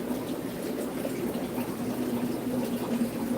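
Water runs steadily from a tap while filling fish tanks in a hatchery building, giving a continuous mid-level rushing flow with no voices.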